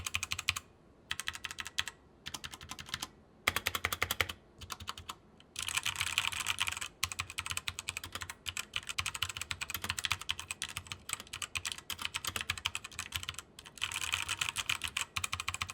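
Close-up typing on a Redragon K530 mechanical keyboard fitted with brown switches, a steady patter of clacky keystrokes running in bursts with short pauses between them.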